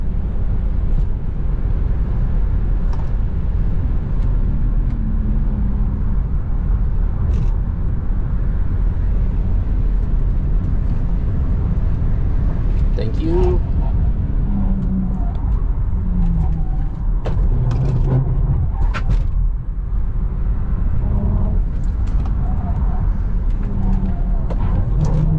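A modified Tesla Model 3 Performance accelerating hard with a bit of wheel spin, heard as a loud, constant low road and motor roar with wind rush, steady throughout with only faint tonal whine rising near the middle.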